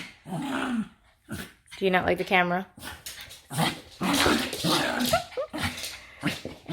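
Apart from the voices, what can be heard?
pet dog whining and barking behind the camera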